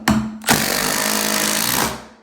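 A cordless power driver sinks a 3-inch screw while a shower is being built, with a short burst followed by a loud, steady, close motor whine that holds for over a second and then spins down.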